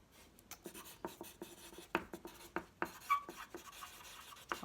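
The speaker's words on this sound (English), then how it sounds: "I want to write this down." A pen writes by hand on paper in quiet, close scratches and taps, irregular strokes broken by short pauses, with no speech.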